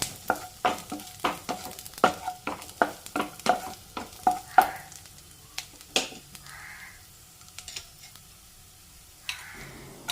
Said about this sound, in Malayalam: അപ്പോൾ അതിട്ട് കൊടുത്ത് നല്ലതുപോലെ ഒരു ഗോൾഡൻ ബ്രൗൺ ആകുന്നവരെ ഒന്ന് വഴറ്റി കൊടുക്കണം.